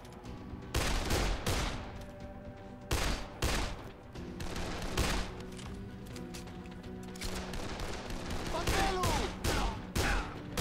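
Bursts of gunfire ring out in the zombie game Dead Island: several loud sharp shots with quieter stretches between them, mixed with game noise and someone talking.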